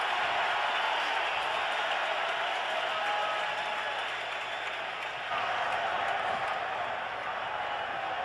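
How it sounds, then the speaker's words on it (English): Sustained roar of a hostile home crowd at a Cincinnati Bengals NFL stadium game against the Miami Dolphins, a dense, steady wall of noise throughout with a slight dip midway. "In front of a very hostile crowd, a lot of noise"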